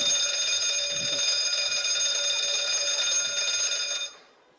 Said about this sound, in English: So what did you think when you heard that alarm?